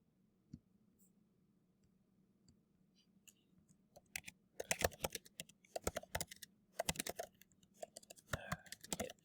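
Bursts of computer keyboard typing, crisp clustered key clicks that start faint and grow busier in the second half, over a low steady room hum with no talking.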